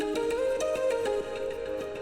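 Serum synth lead remade from a pop song, a bright sustained melodic line with quick plucky note changes, heard alone without talk.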